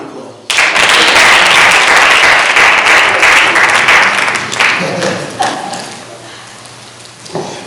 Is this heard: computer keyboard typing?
no